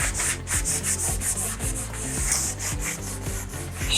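A brush lays a solid stripe of paint down the flat part of a cabinet during an antique-finish refinish, making a run of quick, even rubbing strokes close by over a low tonal backing.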